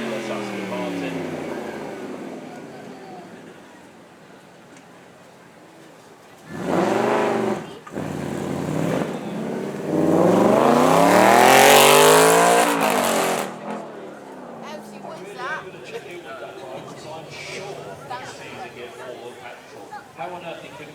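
An Aston Martin Vantage S roars past at a supercar weekend, its engine rising from a distant growl to a loud, sweeping, high-revving pass that then fades, with chatter and commentary around it.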